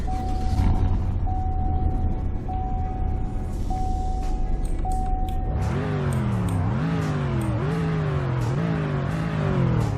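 In Roblox Greenville, a steady beeping tone over the idling engine of a 2021 Bronson Eminence 1500 pickup truck, then the engine revs up hard several times in rising, falling surges, loud and close.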